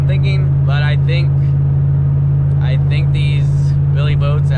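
Corvette C6 ZR1 fitted with Billy Boat exhaust, droning loudly and steadily while driving at around 70 mph, a constant low tone running under people talking throughout.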